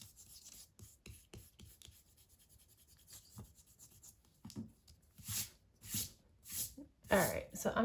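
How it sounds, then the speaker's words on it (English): Eraser rubbing over paper to lift pencil lines from a panda-with-bamboo drawing, a series of short, soft scrubbing strokes that grow louder and longer toward the end, close up and quiet. "we'll go ahead and erase all of our pencil lines"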